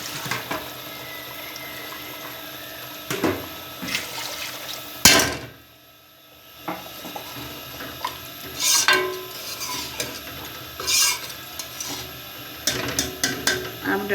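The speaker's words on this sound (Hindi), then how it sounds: "अब घी छोड़ दिया है और इसमें पानी ऐड करते हैं ज़रूरत के" Water is poured into a pot of potato curry (aloo shorba) after ghee has separated, splashing in several loud bursts with short pauses and a brief near-silent gap partway through.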